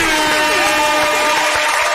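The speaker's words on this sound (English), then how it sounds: "So let's give Mr. Moses West another round of applause, y'all." A studio audience on a radio show claps briefly and steadily, the applause blending with a sustained tonal hum throughout.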